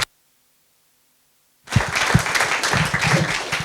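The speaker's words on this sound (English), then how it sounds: "please join me in giving them both a big round of applause" After a moment of near silence, a lecture audience breaks into full applause for two speakers, many hands clapping densely and steadily at a close, lively level.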